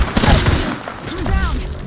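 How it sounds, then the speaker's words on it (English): Rapid bursts of gunfire ring out in an Apex Legends firefight, loud and close, with a player talking over the shots. "I think they're getting shot at from down the hill, though"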